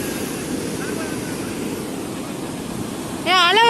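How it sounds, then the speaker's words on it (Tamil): Ocean waves break on a Chennai beach near VGP Marine Kingdom as a loud, continuous roar of surf, with a brief high warbling sound rising over it at the end. "இந்த அலைய பாரு எப்படி அடிச்சுன்னு இருக்கு"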